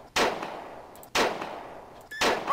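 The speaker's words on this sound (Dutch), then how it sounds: "gewoon aan het schieten op een voertuig" Three loud, sharp gunshots at roughly one-second intervals, each with a short decaying tail, come from a police firefight in the emergency-services game Emergency 4 while shots are fired at a vehicle.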